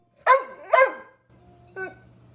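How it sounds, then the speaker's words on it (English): A dog gives two loud, close barks in quick succession, then after a pause a softer shorter yip over a low background hum. "Must you always bark so loud?"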